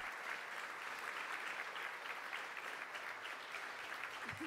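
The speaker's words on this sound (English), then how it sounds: "Let's have another round of applause, please." An audience at a game design talk applauds steadily, a dense patter of many hands clapping at moderate distance throughout, fairly faint.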